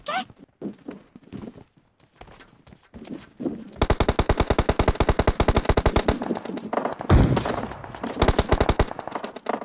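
Rapid automatic gunfire in the video game PUBG Mobile, in the Pochinki area, a loud fast burst of evenly spaced shots after scattered quieter sounds and voices, then a heavy thump and another short burst while people talk.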